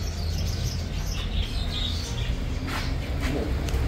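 Lovebirds and other caged birds at an open-air bird market in Baghdad chirp and squawk in scattered bursts over a constant low rumble of market noise.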